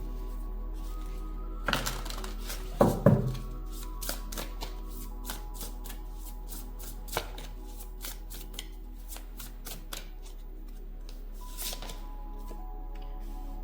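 Tarot cards being shuffled by hand, with soft papery riffles and a scatter of crisp card taps and flicks, close and quiet, over a low steady hum.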